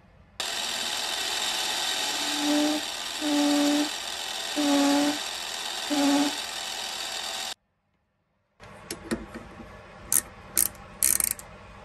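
A small metal part for a homemade flycutter is chamfered on a machine whose motor gives a steady loud whine with a few pitch swells, then cuts out, leaving scattered light metallic clicks.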